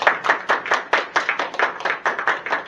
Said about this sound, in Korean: 우리 다 같이 격려의 박수